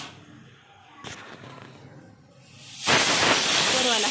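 Chillies tossed into hot oil in a home kitchen burst into a sudden loud hiss that stays strong to the end, after a quieter stretch of faint kitchen noise.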